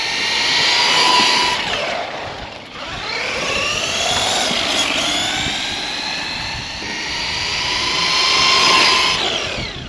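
An FTX Zorro RC trophy truck screams at full throttle with a high electric motor whine that rises and falls in pitch as it speeds past and away, loud and continuous.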